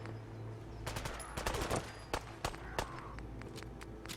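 Fallout 4 gunfire as rival groups trade shots, a run of sharp cracks and short bursts scattered over several seconds at moderate distance, with steady background ambience.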